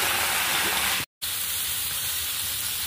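Cauliflower frying in a wok sizzles in a continuous hiss, cut by a sudden silent gap about a second in before the sizzle resumes.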